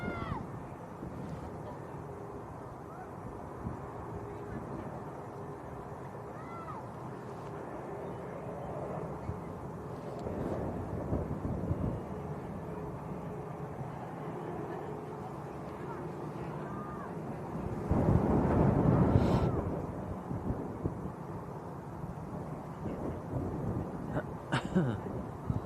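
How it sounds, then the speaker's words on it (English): Steady wind roars and buffets outdoors at Manchester Airport, a low continuous rumble with microphone gusts that swell louder near the end, while a voice talks over it throughout. "It's very blowy out there."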